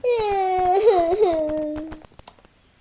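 Crying voice in the Roblox Horseworld video game, a wailing, tonal cry that wavers and breaks for about two seconds, then stops amid faint clicks.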